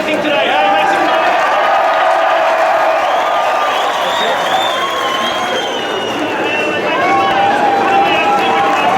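At the Clipsal 500 race in Adelaide, a large crowd cheers and whoops loudly and continuously, with a voice shouting over the steady roar of the crowd.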